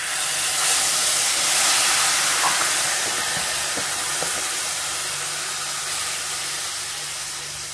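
Garlic and cream hiss loudly in a very hot pan on the stovetop, a dense, steady sizzle that starts strong and slowly eases, with a few faint utensil taps.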